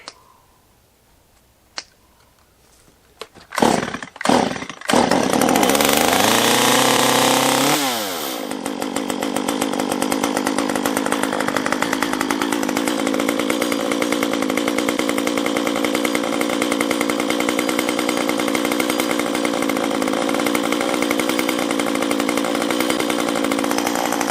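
A few sharp pull-start tugs sputter before a small top-handle chainsaw catches and runs steadily, a loud, buzzing idle that holds for a long stretch nearby.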